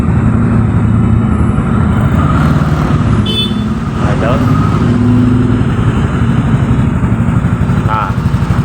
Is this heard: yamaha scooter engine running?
yes